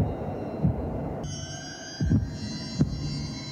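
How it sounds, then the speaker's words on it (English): A low, throbbing heartbeat effect from the film The Shining pulses three times at a slow, uneven rhythm beneath a steady hum, with no voices. "This heartbeat."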